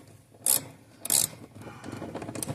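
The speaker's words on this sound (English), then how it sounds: "you hear that wrench?" A wrench loosens a seat bolt in a 1997 Ford Mustang with two sharp ratcheting rasps, followed by softer scraping and rubbing close by.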